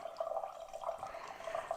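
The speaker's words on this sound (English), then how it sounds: "That's not me peeing, that's just a water line from the furnace" Water trickles and drips steadily from a furnace water line as it drains, a faint, continuous liquid patter with a ringing mid-tone throughout, heard up close and alone.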